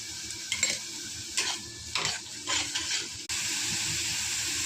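Masala of roasted coconut, ginger, garlic and coriander paste with black chilli powder and turmeric frying in a pan, with repeated scraping stirs over a hissing sizzle that turns into a steady loud fry near the end.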